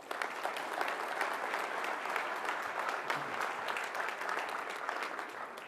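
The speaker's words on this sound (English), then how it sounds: "Please give them a round of applause." Audience applause for the Bettendorf City Council during a State of the City address, sustained dense clapping from a large crowd, loud and even throughout.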